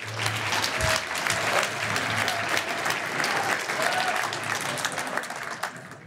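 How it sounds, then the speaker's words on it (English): Steady applause from an awards-show audience celebrating Idaho's fastest growing companies, a dense, even wash of clapping that carries for about six seconds with no words over it. "So let's give another round of applause for our first group as well as Matt."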